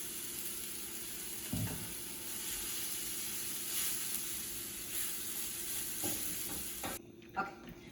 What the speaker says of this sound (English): And I'm gonna use half to make a little sauteed with coconut oil. And then I'm going to fry the oatmeal.